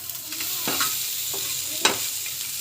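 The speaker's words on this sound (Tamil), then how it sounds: "இந்த மாதிரி லைட்டாக வந்து ஃப்ரை ஆகணும்" Food frying in a pan with a masala of ground spices and onion, a steady soft sizzle broken by a few sharper stirring scrapes, fairly faint and close, with no voices.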